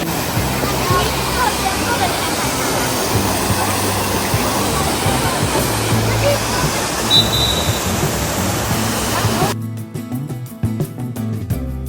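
The Trevi Fountain in Rome pours water in a loud, continuous rushing roar, with a faint crowd murmur mixed in and the sound cutting away abruptly near the end.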